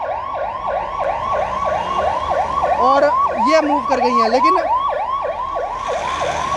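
An ambulance siren wails in loud, rapid, repeating cycles on a Jammu street outside Police Lines after a vehicle collision, with someone talking over it and traffic noise around.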